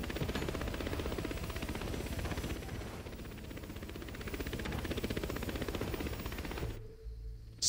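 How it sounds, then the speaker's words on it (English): Helicopter rotor blades in the racing game The Crew 2, a continuous rapid chopping thrum that stays steady for several seconds before cutting off abruptly. "I can hear helicopter blades."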